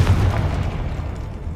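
A Confringo blasting spell explodes in Hogwarts Legacy, a deep loud boom that rumbles and fades over a little more than a second.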